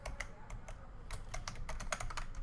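Someone types Python dictionary code on a computer keyboard, producing a steady, fairly close patter of key clicks over a low background hum, with no voice.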